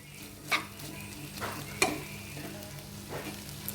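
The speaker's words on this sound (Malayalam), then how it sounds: "ഇനി ഞാൻ ഇതിലേക്ക് എണ്ണ ഒഴിച്ചു കൊടുക്കുകയാണ് ഒരു സ്പൂൺ എണ്ണ ഒഴിച്ചു കൊടുത്ത് നല്ലതുപോലെ അങ്ങോട്ട് ഫ്രൈ ആക്കിയെടുക്കാം" Dried fish chammanthi fries in a spoonful of oil in a pan, a continuous soft sizzle punctuated by several sharp scraping stirs at irregular intervals, with no talking.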